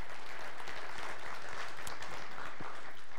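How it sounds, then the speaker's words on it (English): Church congregation applauding and cheering, a steady dense wash of clapping through the whole stretch, full and fairly loud with no distinct voices standing out. "Could we give a cheer for them?"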